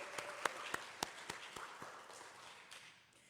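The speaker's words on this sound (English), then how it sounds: "so another round of applause, please" Scattered audience applause for a volunteer of the month at a community gathering: a thin run of separate claps, fairly faint, thinning out and fading within a few seconds, with no talking over it.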